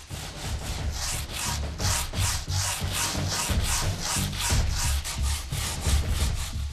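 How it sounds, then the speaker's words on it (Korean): Steady, rhythmic rasping strokes rub back and forth over a paulownia wood jar, coarse sandpaper worked briskly by hand, continuous and close. "잘 건조된 항아리는 거친 사포질에도 끄떡없다."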